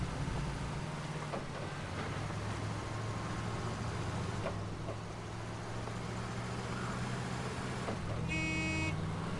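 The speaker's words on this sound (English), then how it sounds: "It sounds so cute with a little horn." In the SnowRunner video game, a truck's horn gives a short, bright toot near the end over a steady, loud engine rumble that runs throughout.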